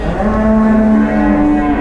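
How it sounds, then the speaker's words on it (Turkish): A black cow, one of the cattle held for sacrifice, gives a single long, loud low moo, heard up close and alone. "Görüyorsunuz kara sığır, kara inek hayvanlar."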